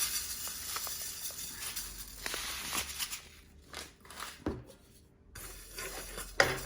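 Sesame seeds being dry-roasted in a pan while making a sweet snack, with light scraping and soft clinks of utensil against pan that rise and fall in quiet, uneven bursts.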